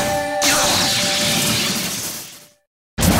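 Lightning Blade attack in Naruto Ultimate Ninja 2 on PS2, heard as a loud crackling crash with a whooshing burst that fades, a brief silence, then another sharp burst.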